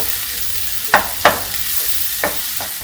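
Masala spices fry in a pan under a soft, steady sizzle, broken by a few sharp scrapes of stirring that land at irregular moments.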